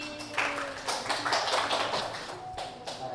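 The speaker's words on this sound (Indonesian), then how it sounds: "Ya, baik tepuk tangan" Applause from a classroom audience during a microteaching lesson, several seconds of steady, fairly close hand claps with an uneven rhythm.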